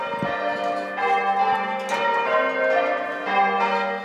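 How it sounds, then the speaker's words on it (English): Church bells ring in a bell tower in Dunblane, several overlapping peals sounding in steady succession with a rich, lingering resonance and no talking. "I ring the bells here since I moved to Dunblane about 30 years ago."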